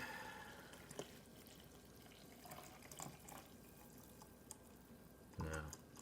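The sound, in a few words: pouring water into a French press coffee maker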